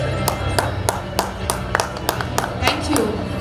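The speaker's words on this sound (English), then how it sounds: "Can we have huge claps?" Audience at an awards night gives a burst of applause, with sharp irregular claps rising over a steady crowd murmur and a voice talking underneath.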